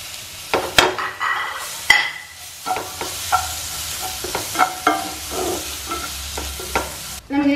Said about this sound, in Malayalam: എന്നിട്ട് നമുക്ക് ഈ സ്മോഷ്ഡ് പൊട്ടറ്റോ ഇട്ട് കൊടുക്കാം